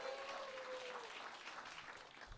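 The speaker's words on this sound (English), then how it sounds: "I don't know why we clap for new dads, though." Comedy club audience applauding at a comedy festival, a steady wash of clapping for the full stretch with a brief tone near the start, fairly quiet and without talk.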